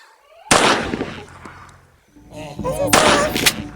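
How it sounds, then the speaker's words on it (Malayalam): Loud bursts of gunfire from the game Granny 2, a heavy blast followed by a second cluster of shots, with a voice briefly underneath. "നമുക്ക് വെടി വയ്ക്കാം."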